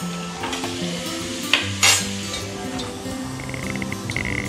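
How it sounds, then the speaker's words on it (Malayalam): Diamond cuts, small diamond-shaped fried snacks, deep-frying in hot oil with a steady close sizzle, plus a few sharp clinks and scrapes of a utensil stirring and lifting pieces from the pan. "ബാക്കി മുറിച്ച് വെച്ചിരിക്കുന്ന ഡയമണ്ട് കട്ട്സ് കൂടെ നമുക്കിങ്ങനെ വറുത്ത് കോരാം."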